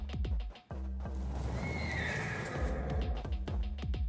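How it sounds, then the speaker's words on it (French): A horse neighs in the video game DayZ, one long loud whinny in the middle of the clip, framed by a steady series of close clip-clop hoofbeats before and after it. "Le cheval! Le cheval! J'ai le cheval, Phaser."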